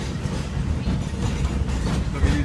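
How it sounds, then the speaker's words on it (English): A Walt Disney World monorail train passes at Magic Kingdom with a continuous low rumble and a rushing wash of noise, steady and fairly loud throughout, with no voices over it. "The monorail."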